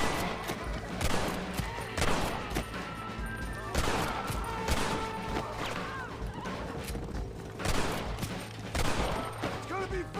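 Gunfire rattles through a shootout in the video game Red Dead Redemption, with dense, repeated shots cracking in quick bursts over ongoing action and a character shouting now and then.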